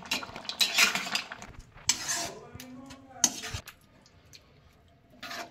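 Boiled vegetables for home-made Mumbai street-style pav bhaji are mashed in a pot, giving close, irregular clanks, taps and scrapes of a utensil against metal in bursts separated by pauses.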